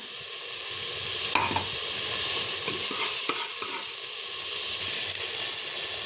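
Freshly made masala sizzles and hisses steadily in hot oil in a pan while being stirred, with a few scraping clicks of the spoon over a continuous frying sound, no voices.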